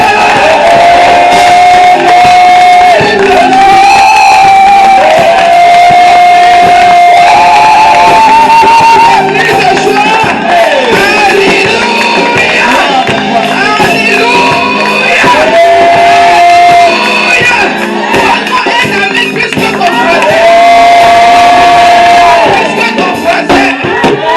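A church congregation at a Sunday celebration service shouts and cheers for joy, loud overlapping voices and drawn-out cries swelling and falling over a dense crowd roar, with music beneath.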